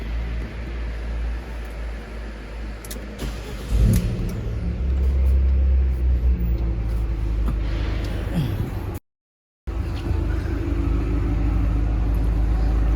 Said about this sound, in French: je vais vous faire écouter le son de l'échappement